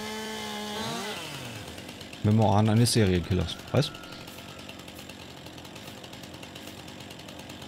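Chainsaw cutting trees in Farming Simulator 19, heard as a short high whine winding down early, then a loud rattling, grinding burst of about a second and a half with a brief follow-up, after which it falls quiet; someone talks at the start.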